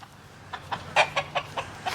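Chickens on a small home farm cluck in a short series of sharp, close calls, about seven quick bursts over two seconds against a quiet background.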